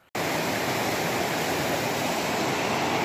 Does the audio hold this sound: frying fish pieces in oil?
no